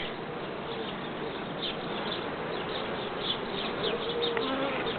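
Honeybees, including a Rhodope bee breed, buzz steadily around an open beehive, a dense continuous drone close by with no talking.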